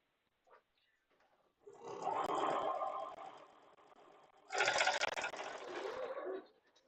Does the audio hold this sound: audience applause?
no